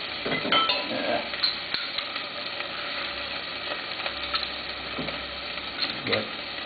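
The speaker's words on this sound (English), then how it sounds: "So I'm going to put in a tablespoon of chopped ginger." Chopped ginger and garlic sizzle in a hot pan with a steady low crackle. A utensil scrapes and clinks against the metal now and then.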